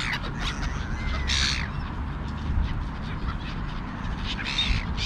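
Several gulls call in loud, harsh bursts close by over a lawn, with a brief chorus of squawks near the start and another toward the end above steady outdoor background noise.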